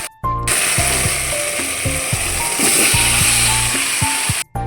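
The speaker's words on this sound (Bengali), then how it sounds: "এবার আমি এর মধ্যে কচুটা আর আলুটা দিয়ে দেবো।" Taro and potato pieces go into a hot spice paste and sizzle loudly, while metallic scraping and rhythmic clacking from a spoon against the pan run throughout, with brief silences at the start and end.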